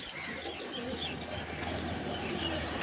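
Two Malbai or Punjabi pigeons at a home loft give soft, steady cooing, low and continuous, against a constant background hum with no one speaking.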